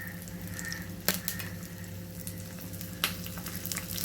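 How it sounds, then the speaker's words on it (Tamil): Red chillies and garlic sautéing in sesame oil in a pan, a continuous soft sizzle with two sharp clinks from a utensil, close by and without speech. "ஸோ இதை கொஞ்ச நேரம் நல்லா நல்லெண்ணெயில் வதக்கிக்கலாம்."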